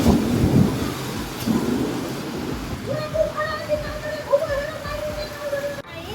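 Rain falling outdoors beside a house, a steady broadband wash with heavier rumbling bursts early on, while a faint tonal hum runs through the later part and speech is mixed in.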